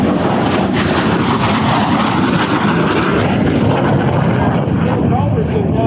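A MiG-17 jet fighter roars overhead at an air show at Dover Air Force Base, a loud, steady engine rush that fills the whole clip while an announcer talks over it.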